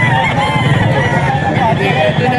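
A rooster crows loudly nearby amid a busy din of other chickens clucking at a pet market in Bocaue, with voices talking in the background.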